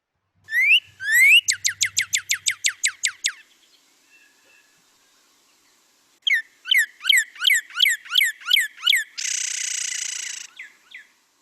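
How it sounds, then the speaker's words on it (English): Bright, repeated whistled bird song in two separate phrases, clear and close, with a short quiet gap between them and a buzzy trill near the end. "you hear that kind of whistling and general kind of pitch that remains the same there"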